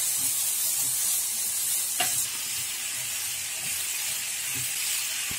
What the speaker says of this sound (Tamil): இந்த வெஜிடபிள்ஸ் எல்லாம் ரொம்ப வேகணும்னே வேண்டாம், ரொம்ப ஒரு வதக்குனா போதும்